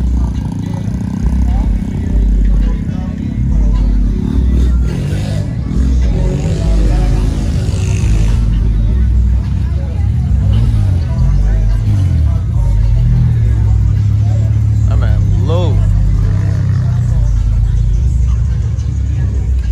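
A large group of cars driving together at night, including a Nissan S13, with a deep, loud engine rumble and occasional revving close by, while people talk over it most of the time.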